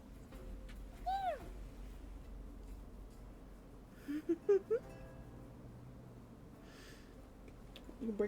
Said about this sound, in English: she heard him meow